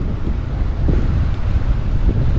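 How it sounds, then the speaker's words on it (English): Strong wind blows steadily across a rocky seashore, a loud, constant roar buffeting the microphone with low rumbling gusts and no voices. "Oh, windy."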